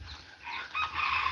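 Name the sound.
bantam hen and rooster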